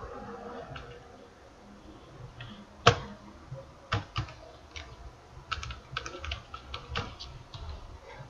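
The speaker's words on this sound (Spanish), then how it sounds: "aquí voy a colocar mi usuario y voy a colocar mi contraseña" Keystrokes on a computer keyboard as a username and password are entered, scattered clicks and taps starting around a third of the way in, close and fairly faint against a quiet room.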